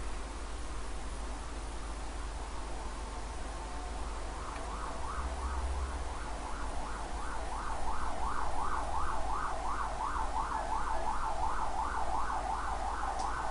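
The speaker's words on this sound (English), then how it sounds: "Fucking ambulances." Ambulance sirens wail in a big city, faint and distant at first, then building after a few seconds into a steady rising-and-falling wail over low traffic hum, with no talking.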